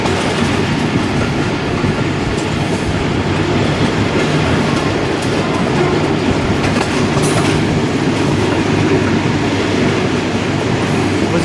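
Rehman Baba Express, the 47 Up passenger train, rolling on rails near Wazirabad in Pakistan, a loud continuous rumble with dense clickety-clack of wheels over rail joints, steady from start to finish.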